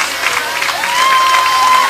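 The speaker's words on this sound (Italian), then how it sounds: "Un applauso" Applause from a crowd at an indoor hairdressing and fashion event, as a cake is about to be served; a dense, steady wash of clapping with a sustained tone running through it, growing slightly louder toward the end.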